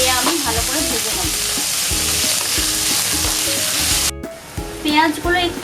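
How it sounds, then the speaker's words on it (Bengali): Whole spices such as cumin, bay leaf and garam masala frying in oil, a constant sizzle with regular spatula stirring scrapes, briefly cutting out before the sizzling resumes. "আমি ভালো করে ভেজে নেব।"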